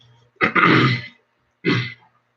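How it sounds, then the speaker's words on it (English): A person clears their throat twice, loud and close: a long rasping clear followed after a short pause by a shorter second one, in an otherwise quiet room. "I have to clear my throat a little bit."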